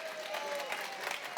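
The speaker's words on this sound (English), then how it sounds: "You're actually clapping for yourselves" A church congregation claps for themselves in a dense, continuous burst of many hands, fairly close and steady throughout, with a faint tone lingering in the background.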